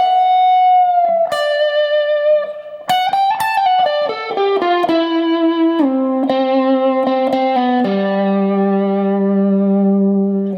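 Electric guitar lick, played through effects with distortion and reverb: sustained notes, bends and quick runs stepping gradually downward over about ten seconds, loud and alone with no talking.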